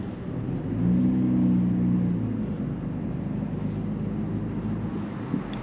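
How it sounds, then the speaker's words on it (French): BMW M3 CS with 580 horsepower, heard from inside the cabin: a low engine hum rises in a brief rev with rising tones, then settles to a steady muffled drone while driving. "vous entendiez un minimum le bruit du moteur et du passage des rapports"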